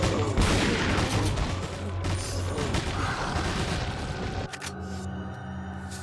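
Shotgun fire in Resident Evil 4, loud booming blasts and mechanical clatter filling the first few seconds before cutting to a quieter game hum.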